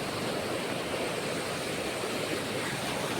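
Floodwater of the overflowing Malan river at Mahuva rushes past a bridge in a constant, roaring wash of broadband noise that holds an even level from start to finish.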